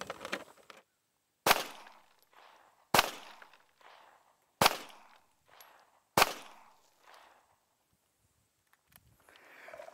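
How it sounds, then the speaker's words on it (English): Four loud 9mm handgun shots fired one at a time at an even pace, each a sharp crack with a short echoing tail, outdoors with no talk. "we're gonna go back and fire some multiple shots."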